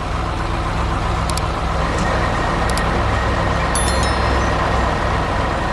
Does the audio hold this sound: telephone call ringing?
no